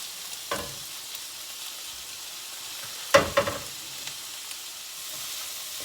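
Roasted zucchini tipped into a hot pan with garlic, giving a steady low sizzle with a couple of sharp clattering bursts as the pieces land, no talking.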